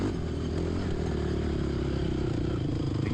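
Four-wheeler engine racing in a GNCC off-road event at Burr Oak, a steady loud drone with a rough, rattling edge that holds constant and close throughout.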